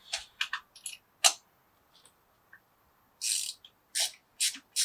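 Socket wrench turning out spark plugs on a flood-damaged John Cooper Works Mini, using a Mini/BMW plug socket; a series of short, close ratcheting clicks comes in quick bursts separated by pauses.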